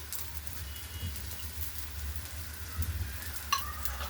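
Quiet, steady sizzling of oil on a hot griddle as a sorghum-flour and fenugreek flatbread fries, with a faint crackle near the end and no talking.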